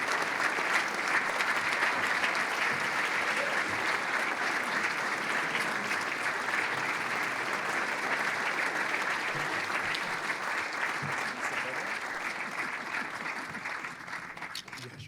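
Sustained audience applause at a 2018 gala for award honorees Michele and Rob Levin, dense steady clapping throughout that slowly tapers toward the end.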